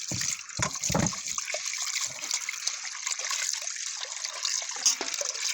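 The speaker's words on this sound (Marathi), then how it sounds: "दोन तीन पाण्याने ताळ डाळ आणि तांदूळ स्वच्छ धुवून घ्यायचे" Soaked dal and rice for white idli are rinsed by hand in two or three changes of water, giving close, uneven sloshing and trickling with a few splashy bursts early on.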